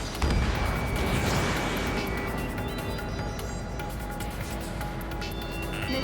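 Long-range LAAM and HVAA missiles launch in the Ace Combat 7: Skies Unknown flight combat game, a loud rushing roar with booming bursts over a continuous jet engine drone, tonal cockpit warning beeps layered on top.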